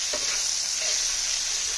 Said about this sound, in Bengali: এখন এই মশলাটা ভালো করে কষিয়ে নেব।